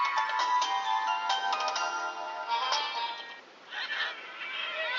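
Bright, bouncy Angry Birds game sound effects and jingles play continuously from an HTC Evo Design 4G phone, with chirpy tones and squawking cartoon bird cries, close and fairly loud.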